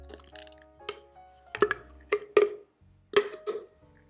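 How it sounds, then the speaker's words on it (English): Vegan strawberry shortcake batter with chopped dates being stirred in a bowl, giving a series of soft wet squishes and light clinks of spoon against the bowl at an irregular pace, with nobody speaking. "All right, so now we just stir that together."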